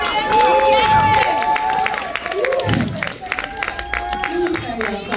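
Concert crowd at an album release birthday show in Chicago, clapping and cheering loudly in a dense, continuous wash, with voices mixed into the noise.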